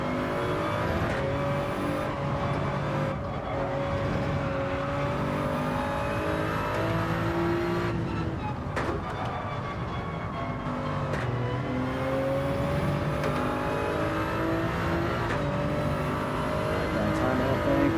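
Toyota Supra race car in Gran Turismo, its engine droning steadily at high revs through an entire lap section, with pitch shifts as the driver works the throttle on a front-heavy car, plus faint other cars nearby.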